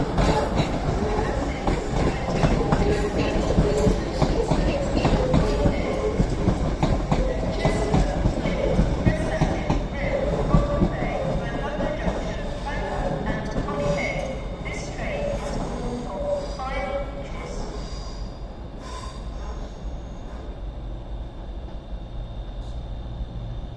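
Avanti West Coast train pulling out of Crewe station, a steady rumble of wheels and rolling stock with clickety-clack passing close, with voices and station announcement over it, gradually fading toward the end.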